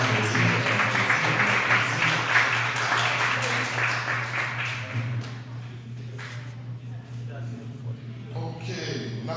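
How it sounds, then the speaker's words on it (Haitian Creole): An audience at a training-workshop certificate ceremony applauds, dense clapping that is loudest at first and then thins into scattered claps, with talk underneath. "On applaudit"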